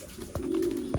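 Pigeons cooing at a loft, a soft low coo from one bird with faint flutters around it, close and brief.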